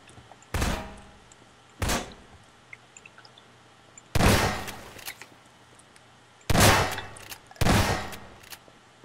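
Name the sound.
gunshots in Garry's Mod Prop Hunt video game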